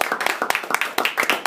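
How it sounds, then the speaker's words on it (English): A small classroom audience claps after a student's persuasive speech: a short run of sharp, uneven handclaps, close and fairly loud, with no talking. "Let's give him a round of applause."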